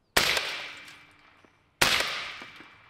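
Two loud, sharp shots from a pistol grenade launcher fired at cinder blocks, each a sudden crack followed by a long decaying ring, spaced nearly two seconds apart with no talking.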